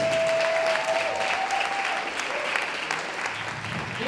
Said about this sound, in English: So I want everybody to give him a round of applause.